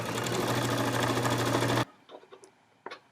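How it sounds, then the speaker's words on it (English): A sewing machine stitches throw blanket fabric in a fast, even whirring run for nearly two seconds, then stops abruptly, leaving faint handling clicks and rustles. "So you're going to sew it a 1/4 inch down."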